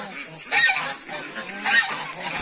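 African and Chinese geese at a farm honk loudly and repeatedly, several overlapping calls in quick succession close by, with no talk.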